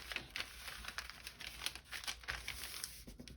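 A sheet of newspaper is folded over by hand while making a flower pot, producing soft continuous crinkling and rustling close up, faint and steady, with no talk.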